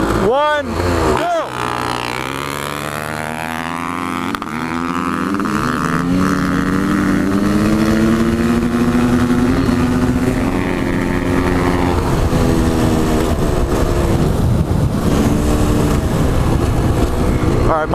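A KX500 two-stroke and a KX450F dirt bike drag racing, engines revving up loud and close with rising pitch through the gears, a sustained roaring drone throughout, with a brief voice at the start.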